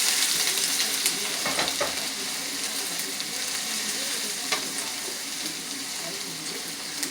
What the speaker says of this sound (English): You're gonna saute this.